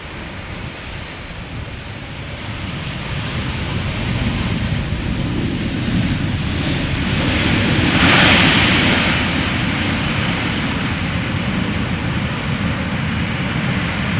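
A Boeing 777 airliner arriving at Amsterdam Schiphol Airport roars past, its engine noise building from a broad rumble to a loud peak near the middle before holding strong, with wind-like hiss and no voices.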